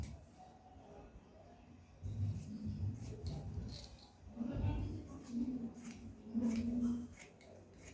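Scissors cut fabric for a kimono jacket in a quiet room, a series of soft crisp snips and rustles in irregular bursts, close and fairly faint.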